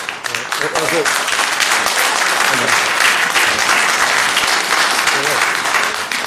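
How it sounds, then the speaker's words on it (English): An audience at a council meeting applauds loudly and steadily, a dense sustained clapping with a few voices mixed in. "Let's hold off on the clapping, people, please, so that we can continue with business."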